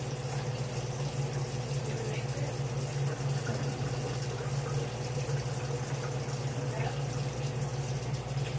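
Cold water runs continuously into a Mr. Beer homebrew keg, a steady close rushing and gurgling fill with a low hum underneath and no pauses.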